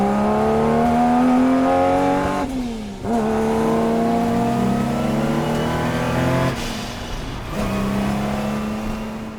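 A historic Jaguar E-Type race car engine roars close by, its pitch climbing under acceleration and dropping sharply at two quick gear changes before rising again, loud and alone without talk.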